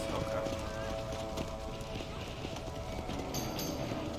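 Horse hooves clip-clop steadily as a rider travels in a video game, layered under a dense game soundscape with talk over the top.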